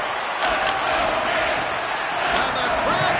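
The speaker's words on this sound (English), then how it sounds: "And the crowd's on their feet, saluting the team after a hard-fought effort this evening." A video game hockey crowd, the NHL 25 arena at the end of a Stanley Cup playoff game, roars and cheers steadily in a dense, continuous wash of noise with a commentator's voice over it.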